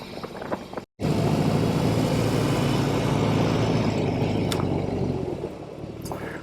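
BMW R18 Bagger motorcycle cruising on a South Carolina ride, its engine a steady loud roar with wind rush after a brief cut near the start, no talking.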